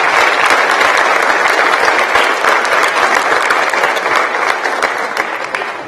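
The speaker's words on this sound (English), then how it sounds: "So everybody give a round of applause to Mr. and Mrs. Mullins." An audience at an eighth grade academic awards ceremony breaks into sustained applause, dense and loud at first, then tapering slightly toward the end.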